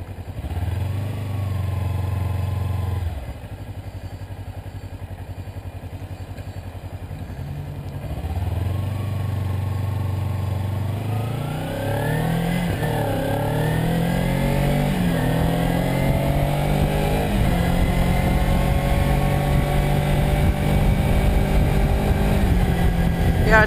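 A Kawasaki Ninja 300 motorcycle on a test ride, its engine droning loud and close as it climbs through the revs, drops briefly on gear changes, then pulls up steadily again under rushing wind.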